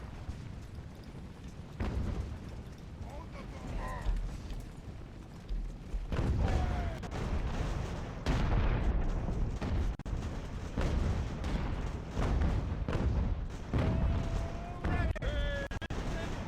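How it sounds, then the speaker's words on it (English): Ship cannon fire shelling troops in a harbor in Ultimate Admiral: Age of Sail, low booms and scattered shots rumbling through a battle din, with someone talking over it. "our men are getting shelled from the ships in the harbor"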